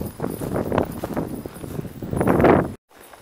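Horse hooves clip-clop nearby on the ground in an uneven rhythm over rustling, and the sound cuts off sharply near the end.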